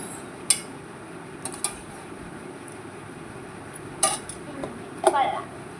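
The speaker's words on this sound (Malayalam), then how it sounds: "പിന്നെ ഈ പാത്രം കൂടെ കഴുകി വെച്ചിട്ട് വരാം." A pot being washed in a home kitchen while making lemonade: scattered metallic clinks and knocks of dishes, sparse and moderately close over a low steady background.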